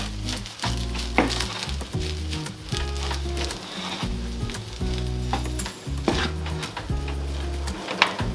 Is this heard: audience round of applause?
no